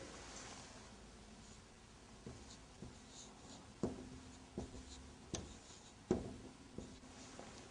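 Quiet writing on a board in an Arabic lesson: faint scratchy strokes with a few soft taps as letters are formed, close and without talk.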